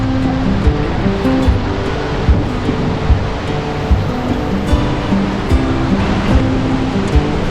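Dunhinda Falls in Sri Lanka pours over rocks as a constant roaring wash of water, broad and steady, heard from a viewpoint with light wind buffeting the microphone.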